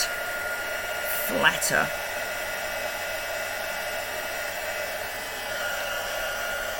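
A heat tool blows steadily to melt embossing powder on the reverse of vellum, a constant airy hair-dryer-like whoosh with a brief spoken word early on.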